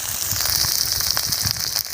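Black cumin and ginger-garlic paste sizzle in hot oil as the base for a taro and snakehead fish curry, a close, steady crackling hiss.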